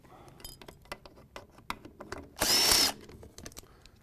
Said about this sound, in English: Now we're going to take the pan off. This is a number 30 Torx bit.